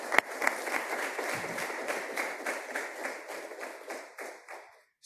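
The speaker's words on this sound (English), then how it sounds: "But first, let's have another round of applause for Karenna." Audience applause after a speaker at a Yale environment school event, steady dense clapping filling the room at moderate level, then thinning out and fading toward the end.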